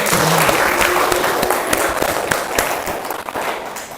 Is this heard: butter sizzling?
no